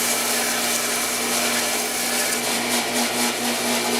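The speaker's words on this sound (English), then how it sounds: "the idea is to grind every surface that you're going to see" A grinder works steadily over the surfaces of a metal motorcycle bracket, making a loud, continuous whine with a constant hum and rasp beneath it and no break in the sound.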